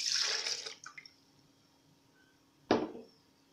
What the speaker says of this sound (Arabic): نضيف الحليب